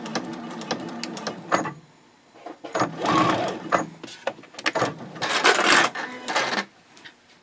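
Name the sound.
sewing machine back stitching fabric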